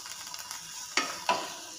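Vegetables turned once in a pan, kept crunchy: a low background sizzle broken by two quick scraping stirs close together near the end.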